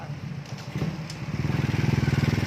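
A motorcycle with a freshly tuned carburetor builds from a low idle into a rising rev as it is ridden, the engine pulsing in a fast even throb, loud and close, with a voice briefly audible.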